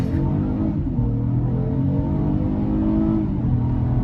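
A 2020 Acura TLX V6 SH-AWD sedan pulls hard under acceleration, its engine note rising and shifting through gears in a loud, close cabin drone with no talking.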